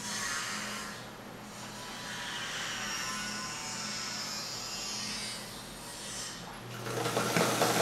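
A sewing machine runs at a steady hum, stitching wide leg trousers and going back over an earlier seam without backstitching, then swells louder near the end.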